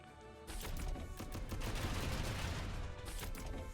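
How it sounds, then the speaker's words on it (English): Jury X machine gun fire from a mech in the video game Front Mission 2: a dense, loud, continuous burst of rapid shots that begins about half a second in and runs to the end without a break. "we're going to use the Jury X machine gun"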